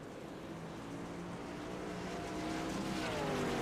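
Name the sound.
race truck driving laps at Knoxville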